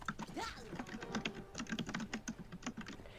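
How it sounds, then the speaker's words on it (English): Fast, loud clicking keystrokes on a computer keyboard run steadily throughout, close up with no voice. "Intense typing commence. That loud clicking."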